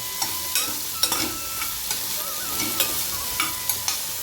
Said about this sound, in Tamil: வெண்டைக்காய் வந்து அந்த எண்ணெயிலே நல்லா வதங்கிடும்